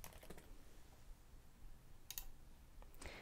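Quiet typing on a computer keyboard gives a short burst of rapid clicks, then a pause, then a few more scattered keystrokes, close but faint.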